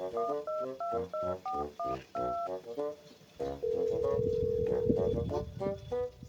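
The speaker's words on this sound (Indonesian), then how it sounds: "Coba telepon sing bos lor kono wae." A telephone dials, a rapid run of about a dozen distinct keypad beeps followed by a long steady tone, loud and close with no talking.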